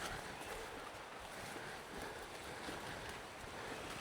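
Water flows along a creek near Bluff Creek, a steady, soft broadband rush and hiss with slight wind-like buffeting, continuous and faint, with no one talking.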